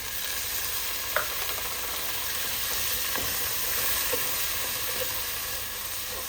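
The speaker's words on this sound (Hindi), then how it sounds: "इसको बहुत अच्छे से मिक्स करना है ताकि ये सारा का सारा जो मसाला है ये नरम हो जाए।" Mutton masala with tomatoes and green chilies fries in a pan, a steady sizzle and hiss running throughout with a few faint scrapes and clinks of a spoon stirring.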